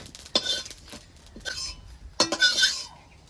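A spoon clinks against a pan while fried cumin seeds are lifted out, giving three or four bright metallic scrapes and clinks with brief pauses between them, close and clear, with no talking.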